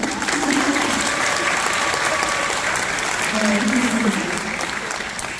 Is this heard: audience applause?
yes